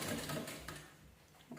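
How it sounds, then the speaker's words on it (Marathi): A sewing machine stitches two pieces of fabric together, a quiet rapid mechanical whirr of needle strokes that slows and fades with a small clunk at the end. "चला आपण आता शिलाई करून घेऊया व्यवस्थित"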